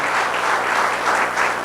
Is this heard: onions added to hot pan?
no